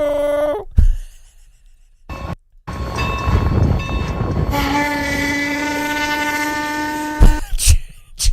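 A train in a train simulator video game sounds a loud, droning horn in two long blasts with steady tonal harmonics. Rumbling engine and rail noise fill the gaps, and the sound ends in a few sharp bursts.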